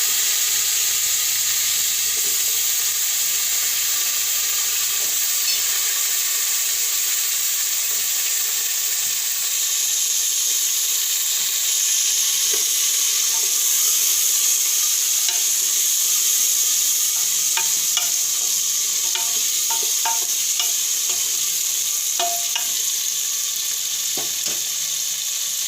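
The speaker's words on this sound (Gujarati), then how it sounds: "આપણે હવે સક્કરિયા નાખી દઈશું।" Sweet potatoes frying in a pan, a continuous loud hiss of sizzling oil with scattered scraping and clinking as the pieces are stirred, no voices.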